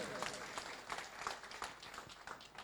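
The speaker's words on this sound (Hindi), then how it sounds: "तो वापिस एक बार जोरदार ताली हो जानी चाहिए" Audience applause at a Bardoli seminar, a brief burst of clapping with sharp individual claps through the crowd, moderately loud and steady, then thinning slightly toward the end.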